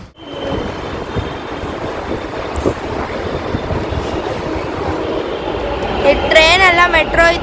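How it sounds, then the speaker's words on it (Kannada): A metro train in Bengaluru runs along at steady speed, a loud continuous rumble and rattle from inside the carriage, with high squealing wheel tones rising near the end. "ಟ್ರೈನ್ ಅಲ್ಲ, ಮೆಟ್ರೋ ಇದು."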